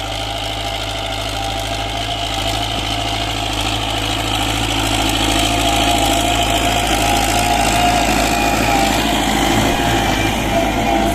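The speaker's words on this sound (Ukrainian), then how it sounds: "так бере цей плуг, орить, бачите" An MTZ tractor drags a Unia plough across a field in autumn. Its engine holds a loud, constant, slightly knocking drone close by for the whole stretch, and no one speaks.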